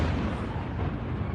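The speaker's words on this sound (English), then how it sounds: "you're seeing more missiles come down and hit" Missiles strike and explode in news footage, producing a dense, rumbling roar of blasts that is loud and continuous throughout the short burst.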